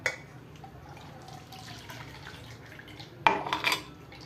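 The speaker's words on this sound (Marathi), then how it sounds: "आणि हे मी चाळणीनं गाळून घेते." Freshly ground coconut milk for Konkan solkadi strained through a kitchen sieve: a soft, steady trickle of liquid with faint drips, then a sharp clink of metal against a bowl near the end, close and fairly quiet.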